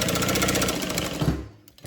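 A sewing machine stitches a Denver Double Zip Bag, a fast steady mechanical chatter of needle strokes that runs close and loud before slowing to a stop.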